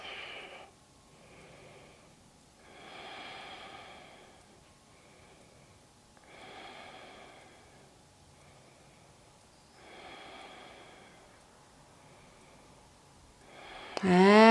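Slow, deep yoga breaths at close range, about four long, even inhale-exhale cycles with audible airflow through the nose and quiet pauses between, ending in a sudden louder noise.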